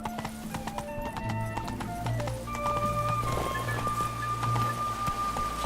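Roach the horse galloping in The Witcher 3 video game, rapid rhythmic hoofbeats close by, with game music tones running underneath.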